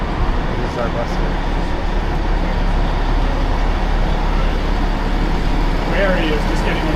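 A bus runs nearby with a constant low engine rumble and broad road hum, steady for several seconds, with faint voices in the background.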